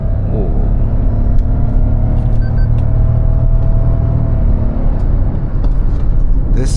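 A 2025 Toyota Hyryder accelerating in power mode, heard from inside the cabin as a loud, steady engine and road rumble that holds throughout without letting up.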